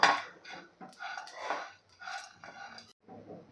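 Cashews and almonds are dry-roasting in a pan with a quiet, intermittent scraping rattle, as if the nuts are being stirred and shuffled in short bursts against the metal.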